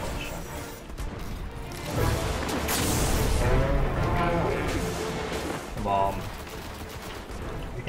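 Rapid gunfire in the Destiny video game while shooting enemies, dense bursts of weapon shots and impacts running continuously and loudly under excited talk.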